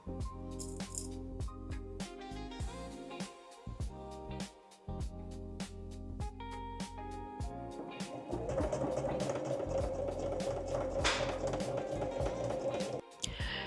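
A sewing machine stitches a pajama collar seam along the piping cord sandwiched between two collar layers, with rattling needle strokes and a steadier, louder whir in the second half, close up and with no talking.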